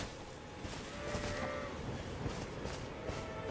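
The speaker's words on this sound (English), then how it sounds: "Oh my god, the sheep are rolling!" Sheep bleat in the video game Elden Ring, a few drawn-out, moo-like cries rising over a dense, steady game ambience, moderately close and with no voices over them.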